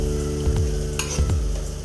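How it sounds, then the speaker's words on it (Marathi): Chili paste sautéing in hot oil for a village-style dill greens dish, a loud close sizzle with a spoon stirring and scraping the pan in quick strokes. "तेलात परतवून घ्यायचं चांगलं."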